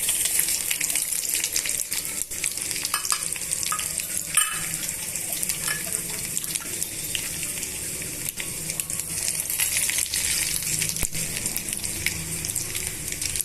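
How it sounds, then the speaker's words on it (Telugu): Steady crackling sizzle of tempering seeds in hot oil, continuous and close, with occasional sharper pops and a faint watery hiss underneath. "నూనె వేడెక్కాక తాలింపు గింజలన్నీ కూడా ఈ నూనెలో వేస్తున్నామండి"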